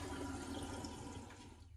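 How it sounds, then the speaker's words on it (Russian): Water rushes steadily into a Sensea installation toilet cistern after fitting, a continuous hissing flow at low level with no voices, tapering slightly at the end. "Так, бачок наполнился."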